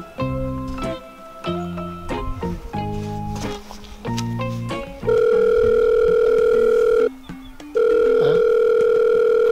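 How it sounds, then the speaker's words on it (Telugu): A phone call being placed: a melodic caller tune plays first, then a loud, steady electronic ringback tone sounds in two long stretches separated by a short gap, with no voices. "ఫోన్ ఎత్తుతలేదండి"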